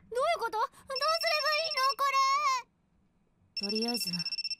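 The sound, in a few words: cell phone ringing in a visual novel video game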